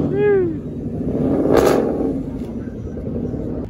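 A Nissan Altima at a street car gathering with burnouts gives a low, rumbling engine drone that swells and holds, with a voice cutting in briefly near the start.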